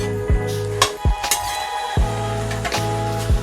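Pork with lai xaak greens gets stirred in a metal pot, a utensil striking the rim in sharp clinks about every half to one second over a steady low hum, with no voices.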